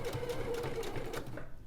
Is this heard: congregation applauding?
no